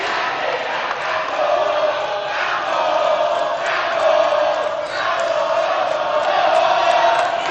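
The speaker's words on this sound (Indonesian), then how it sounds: "Boleh tepuk tangannya dari pendukung paslon nomor 1." Supporters of candidate pair number one at an Indonesian gubernatorial debate cheer and shout as a crowd, a dense, sustained roar with swelling peaks and whoops, loud and continuous.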